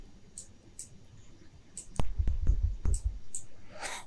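Synthesized white-noise hits with a longer release tail, one of two noise layers in a collision sound; faint bursts give way to several sharp, loud noise strikes with low body and lingering decay, ending in a swelling hiss.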